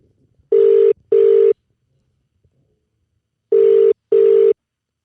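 A phone ringback tone: two paired beeps, a pause of a couple of seconds, then another pair, clear and steady on a silent line.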